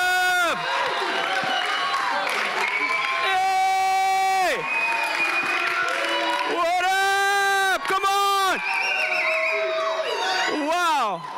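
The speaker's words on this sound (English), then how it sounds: "Give him a round of applause." A church congregation cheers loudly, with long rising and falling whoops and shouts from many voices that swell and fade in waves. Any clapping stays thin beneath the vocal cheering.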